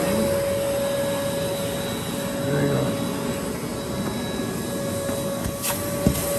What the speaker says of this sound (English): When you put it on auto clean and you start vacuuming